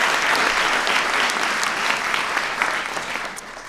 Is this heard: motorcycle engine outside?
no